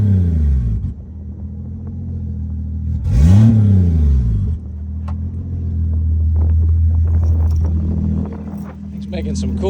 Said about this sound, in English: Guess I'll make me a happy little rev video. Turbo is happy.